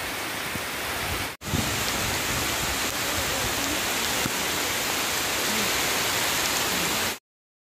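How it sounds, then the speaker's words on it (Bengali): Steady rain pours outdoors near the Amodar river at Joyrambati in Bankura, a dense continuous hiss of drops that breaks off briefly once near the start and then resumes at full strength until the clip ends. "বৃষ্টি শুরু হয়ে গেছে, আমরা একটি গাছের নিচে আশ্রয় নিয়েছি।"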